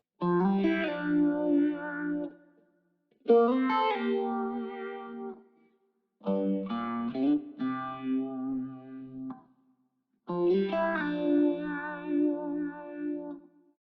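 Electric guitar played through a vibe modulation effect, four separate sustained chordal phrases with warbling, chorus-like shimmer, each ringing out alone before a short gap.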